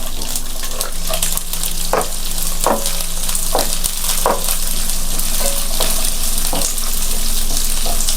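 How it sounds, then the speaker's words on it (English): Steady sizzle of onion wedges and green chilies frying in hot oil for an egg chilli dish, broken by repeated clinks and stirring scrapes. "Now I am going to take the onion which I have cut into wedges."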